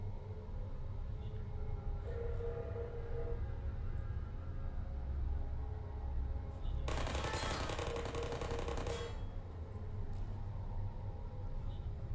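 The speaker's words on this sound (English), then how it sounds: "eliminate the turrets because they'll constantly shoot you" Turrets in the video game Portal fire a dense, hissing burst of automatic shots that lasts about two seconds. A low, steady rumble of machinery runs underneath the whole time.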